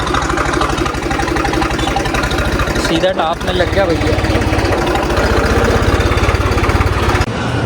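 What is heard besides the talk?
tractor engine idling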